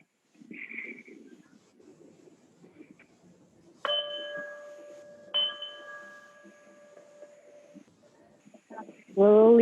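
A clear bell rings twice, each strike leaving a long, pure ringing tone that slowly fades, with soft speech before and a voice starting at the end.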